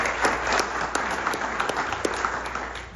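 A community meeting audience in Miami Springs claps in a short, lively burst, with some sharp individual claps standing out over the general applause.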